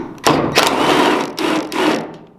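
T30 Torx screws are removed from a Silverado fuel pump access area with a power driver. Several close, loud whirring bursts follow one another in quick succession, with no talking.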